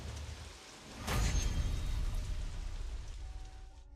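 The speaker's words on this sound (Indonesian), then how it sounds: "Astaga, tiba-tiba saja hujan." A sudden downpour hits, a dense hiss of falling rain that swells with a heavy low rumble and stays steady throughout, with no speech over it.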